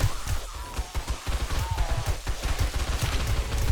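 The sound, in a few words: gunfire from a gun in the video game 7 Days to Die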